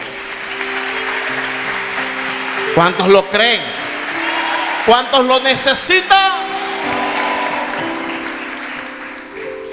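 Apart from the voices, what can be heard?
congregation applause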